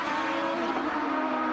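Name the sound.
Champ Car race car tire squeal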